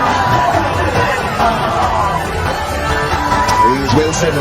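Cricket crowd at a T20 World Cup match between the Netherlands and Nepal, a steady wash of chatter and cheering from a large stadium audience, loud and continuous throughout with a swell toward the end.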